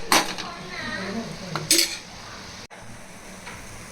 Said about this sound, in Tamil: தேவையான அளவு சேர்த்து கிளறி ஒரு மூடி போட்டு மூடி வச்சு